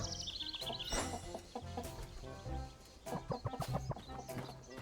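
Chickens cluck in short repeated bursts in the video game On Your Tail, close and moderately loud over a busy background of soft game music, with no talk.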